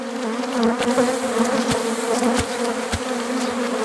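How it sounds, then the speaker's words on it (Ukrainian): A steady, dense buzzing of many honey bees swarming close by at log hives, with individual bees zipping past now and then. "Молода колода, а це бджола роєва."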